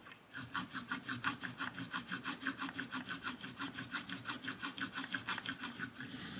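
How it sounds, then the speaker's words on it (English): Vintage Vortex shears sharpened with a diamond hone, a rapid, regular back-and-forth rasping of abrasive on metal, close and steady, repeating several times a second without pause. "Give it a good scrub, because I want to take off some of this metal down here."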